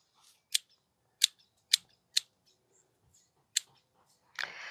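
Garden scissors snip plants in a greenhouse with five or six sharp, separate cuts spaced about half a second apart, close and crisp against near silence, then a brief rustle at the end.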